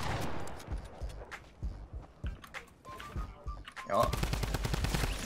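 Rapid gunfire in the Fortnite battle royale game: sharp shots crack in quick irregular bursts, with footsteps between them and a loud, dense volley near the end.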